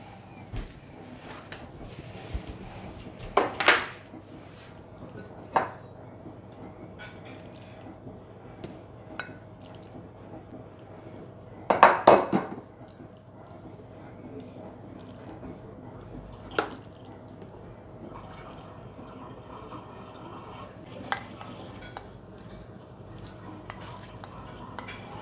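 Dishes and containers clink and clatter at a quiet home in rural Sweden while a husband's lunch is packed, with a few sharp knocks and scattered soft taps over a low background hum.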